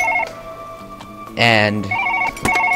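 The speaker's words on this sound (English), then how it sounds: "how about the phone doesn't ring while I'm about to surgery?" A telephone rings in the Surgeon Simulator video game during a kidney transplant, a loud electronic ring bursting out mid-clip over steady game background tones, with a brief word spoken.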